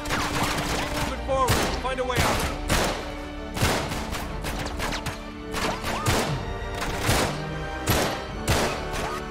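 Rapid gunfire in Uncharted 3: Drake's Deception, a run of sharp loud shots in uneven bursts roughly every half second, close and punchy, with impacts and faint game sounds between them.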